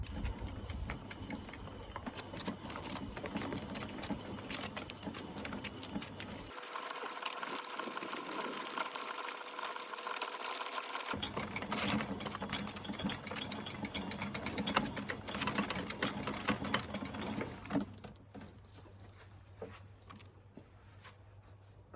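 A cheap garden hose reel fitted with a motor winds the hose back in, a continuous mechanical whirring and ratcheting drone that holds steady and close for most of the stretch, briefly shifting in tone midway, then fading near the end.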